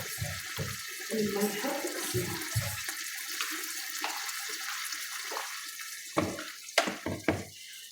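Hot water is poured into a large pot of frying chicken for Moroccan couscous, a close splashing gush over sizzling oil that settles into steady bubbling, with a voice speaking briefly.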